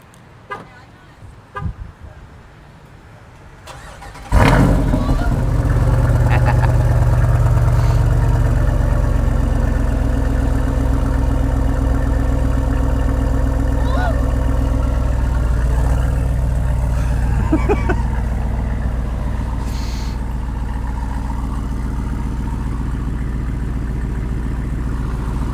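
A Jeep engine fires up from quiet, then settles into a loud, steady low idle that runs for about twenty seconds, with people talking nearby in the background.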